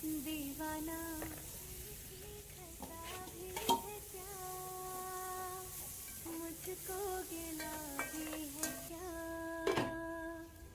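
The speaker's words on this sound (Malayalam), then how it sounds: "നമ്മൾ അരിഞ്ഞു വെച്ച കുടപ്പൻ ചേർത്തിട്ട് നന്നായിട്ടൊന്ന് വേവിച്ചെടുക്കാം" Chopped banana flower sautés quietly with spices in a pan, a low sizzle under occasional stirring clinks and scrapes, with a steady tonal hum running in the background.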